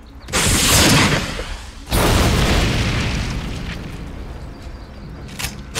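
Cannon fire in the video game Brutal Legend: two loud, close booming blasts, each with a long rumbling decay, followed by a few smaller pops.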